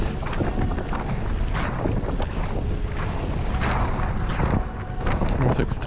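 Constant wind buffets the microphone while cycling on a road route near Bordeaux, a loud close rushing roar that nearly buries someone talking throughout.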